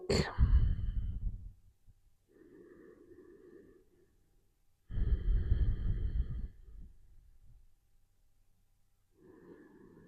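Slow, deep belly breaths during a beginner yoga class for lower back pain, with two long audible exhales and softer inhales between them, close and quiet with no talking.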